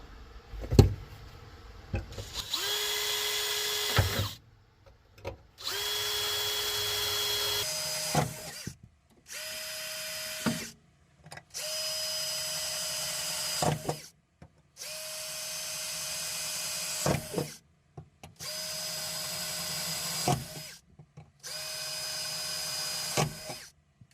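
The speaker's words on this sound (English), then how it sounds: "first round of drilling is done, and the holes line up pretty good" A power drill whirs close by in about eight short bursts, each a few seconds long, separated by brief quiet pauses, drilling holes through a glued metal fuel sender access panel on a Volkswagen Bay Window bus.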